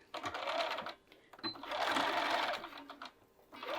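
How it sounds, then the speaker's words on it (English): Sewing machine stitching along a short cuffed sleeve seam line at the underarm, running in quick close bursts with brief stops between them. "Now we're going to head over to our machine and we're going to just sew right along the seam line."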